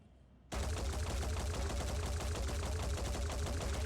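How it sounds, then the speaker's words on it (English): Gunfire in the video game Phoenix Point starts abruptly after a moment of quiet and becomes a loud, sustained burst of rapid, evenly spaced shots, like automatic fire, with no talking. "each of those bullets are individually modelled"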